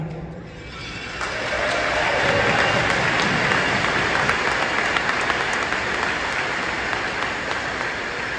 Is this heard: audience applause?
yes